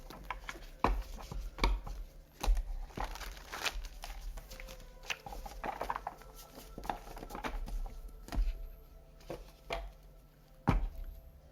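Tarot cards shuffled quickly by hand, a string of sharp, irregular taps and soft riffling pats, close and fairly quiet, with no talking.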